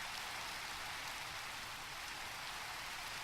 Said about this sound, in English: look straight up at the rain